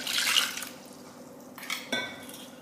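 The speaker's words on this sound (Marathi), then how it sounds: "पाणी याच्यावर टाकायचं म्हणजे त्यातला जो व्हिनेगरचं पाणी आहे ते सर्व खाली चाललं जाईल" Plain water poured over fresh homemade paneer to rinse it, a brief splashing trickle followed by a couple of light clinks of a pot, close and alone.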